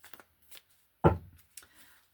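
A deck of reading cards is shuffled nearby: a few light riffling flicks, then one sharp, louder snap of cards before quieter rustles.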